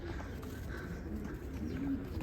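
Homing pigeons in a loft coo softly and continuously, a low, murmuring chorus over a steady background hum, moderately faint and with no voices.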